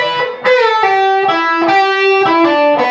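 A distorted electric guitar plays the quick final phrase of the solo from a song, bent, sustained notes, loud and close, with no talking.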